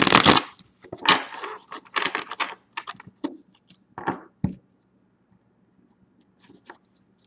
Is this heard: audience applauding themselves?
no